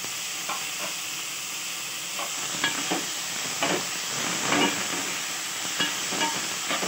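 Tomato pieces frying in a pan for dal khichdi, a continuous bright hiss and sizzle with repeated close scraping stirs of a spoon against the pan.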